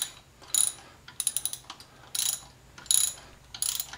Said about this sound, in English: start tightening my stud down